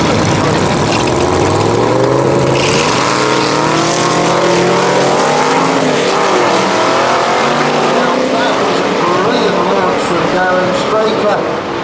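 Drag race cars at a no-prep quarter-mile shootout at Manston Raceway roar loudly as they accelerate, engines climbing steadily in pitch across the run, with someone commentating over the noise throughout.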